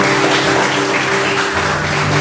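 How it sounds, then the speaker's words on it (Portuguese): A church congregation applauds loudly and steadily, a dense continuous wash of clapping with a sustained musical tone underneath and no talking. "Você pode aplaudir Jesus bem forte"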